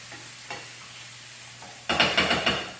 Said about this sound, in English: I'm going to turn this down a little bit now so it begins to just simmer a little bit